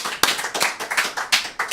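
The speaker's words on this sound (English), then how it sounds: "Big round of applause." A small group applauding after a comedian's podcast appearance, quick uneven hand claps close by, lasting under two seconds.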